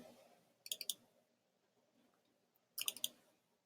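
Computer mouse clicking while navigating Google Drive, two quiet clusters of quick clicks separated by a pause, in a near-silent room.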